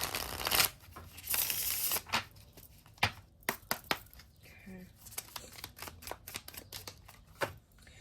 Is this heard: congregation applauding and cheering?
no